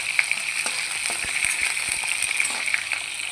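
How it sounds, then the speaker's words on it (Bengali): Boiled cauliflower florets fry in a pan with a loud, steady crackling sizzle full of rapid pops and spits, close by, with no talking. "এখানে ফুলকপিগুলোকে দেখো আমি এখানে ভাজবার জন্য দিয়ে দিলাম।"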